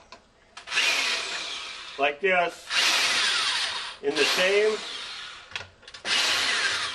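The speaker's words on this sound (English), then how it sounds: "we drill 4 holes" A power drill bores holes into a wooden splicing block for VHS tape, with several loud whirring bursts separated by short pauses and a voice speaking between them.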